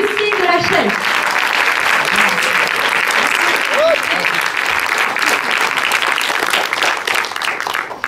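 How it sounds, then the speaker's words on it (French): Loud, sustained audience applause fills a lycée eloquence contest, a dense continuous wash of clapping with a brief voice near the start. "Un tonnerre d'applaudissements"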